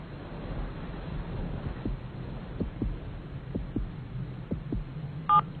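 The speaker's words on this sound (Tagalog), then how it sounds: "Hindi nagbago ang tibok ng puso niya mula nung huling pagkikita namin." A heartbeat picked up through a phone pressed against a chest, heard as a series of soft, regular low thumps under a muffled background hum, ending with a short electronic beep.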